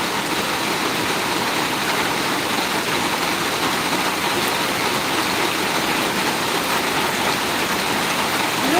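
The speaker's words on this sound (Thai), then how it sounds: "ฝนตกหนัก" Heavy rain pours in a dense, steady roar with no pauses, loud and close, during flooding in Hat Yai; no one speaks.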